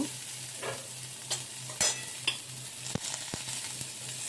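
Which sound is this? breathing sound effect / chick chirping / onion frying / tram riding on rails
onion frying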